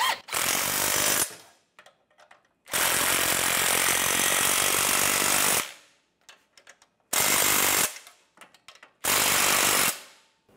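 Loud bursts of an impact-style power tool tightening bolts on a 2010-2016 Cadillac SRX during a crankshaft position sensor replacement, four separate runs of a few seconds each with short quiet gaps between them.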